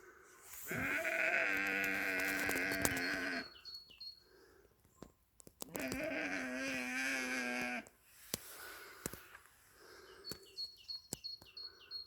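A lone sheep standing outside bleats loudly and close by in two long, wavering calls separated by a pause, with small birds chirping faintly in the background and no talking.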